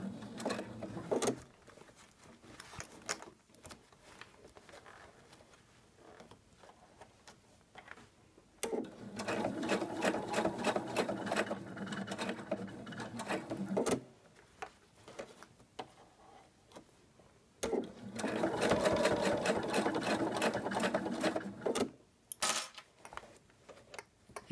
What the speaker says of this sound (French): je vais coudre par-dessus